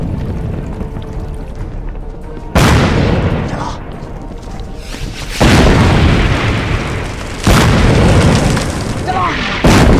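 Loud artillery shells exploding in a war film about Japanese tanks and Eighth Route Army soldiers, several heavy booms landing in succession with rumbling debris between blasts, close and dominant.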